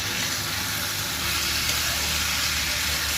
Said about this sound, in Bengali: এবার এর মধ্যে দিয়ে দিচ্ছি সেদ্ধ করে রাখা বেগুনগুলোকে